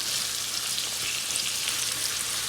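Chopped onions fry in a pan for cabbage and saltfish, giving a steady, close sizzle with a dense crackling hiss that holds even from start to finish, with no voices over it.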